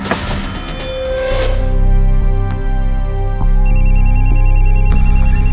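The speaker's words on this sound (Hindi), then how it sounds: "ये बुल्लर अंकल का फोन आ गया।" A telephone rings in a tense domestic scene, a steady electronic ringtone with a repeating high warble that stays loud throughout, over a sustained low musical drone with no talking.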